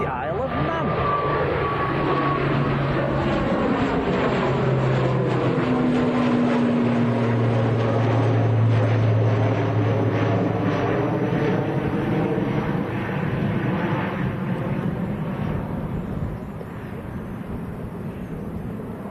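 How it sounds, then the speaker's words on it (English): A Loganair propeller airliner bound for the Isle of Man at Manchester Airport, its droning engines and gliding propeller tones rising and sweeping past nearby, loud and continuous, with a voice speaking over it. "Okay, prop time. This is Loganair to the Isle of Man."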